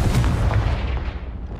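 A Confringo explosive spell goes off in Hogwarts Legacy as a single loud, low blast that fades out over about a second and a half, with no talking.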